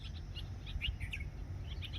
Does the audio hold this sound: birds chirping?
yes